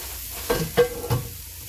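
Cauliflower rice stirred in a pan over medium heat, a low steady sizzle broken by three scraping stirs, close and alone without speech.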